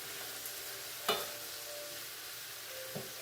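A spoon stirs mashed tomato in a sizzling summer vegetable skillet, with a steady fry hiss and two brief scrapes of the utensil against the pan, close and without talk.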